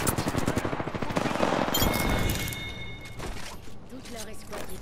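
Rapid bursts of video game gunfire rattle through a competitive scrim match, loud and repeated, while players call out to each other over the shots.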